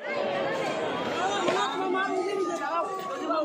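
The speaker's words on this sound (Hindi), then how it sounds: "सब लोग देख रहे हो कि किस तरह से भीड़ लगा हुआ है यहाँ पे।" A dense crowd on the Silchar Sadar bridge keeps up a continuous babble of many overlapping voices, close and fairly loud, with no single voice standing out.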